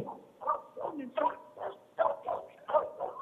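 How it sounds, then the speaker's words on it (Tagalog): A dog barks repeatedly in short, evenly spaced yelps that recur across the whole moment, heard at moderate distance, in a Filipino household on a phone call. "Ano ba yung aso nyo?"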